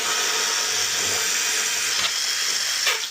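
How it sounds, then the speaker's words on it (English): A power drill bores steadily into a plasterboard wall to make holes for TV brackets, a loud continuous whir heard close up with no pauses. "I'm going to drill the holes for the TV brackets"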